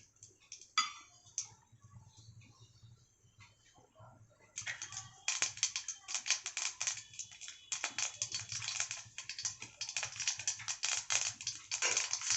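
Mustard and fenugreek seeds crackle in hot sesame oil for a drumstick kara kuzhambu, with dense, rapid popping and sizzling that grows louder and busier midway, heard close up.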